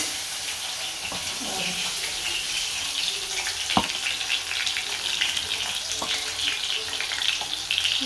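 Potatoes fry in ghee in a pan for sabudana khichdi, giving a steady, close hiss of sizzling oil that runs evenly throughout, with a few faint clinks and no talking.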